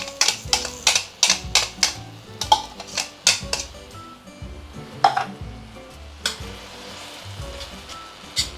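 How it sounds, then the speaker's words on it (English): Chili sautéing in medium-heat oil in a pan for Muar-style assam fish, with a utensil stirring and scraping. Close, irregular metallic clanks and taps ride over a soft sizzle, with no talking. "you will want to saute the chili until it is a little bit charred"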